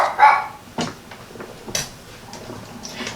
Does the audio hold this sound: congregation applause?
no